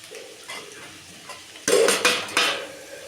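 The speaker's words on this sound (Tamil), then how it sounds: "அடுத்தது நம்ம குடமிளகாய் போட்டுக்கலாம்." Capsicum drops into a pan of onions for egg fried rice, followed by loud metallic scraping and clanking of a spatula stirring, with a faint sizzle underneath.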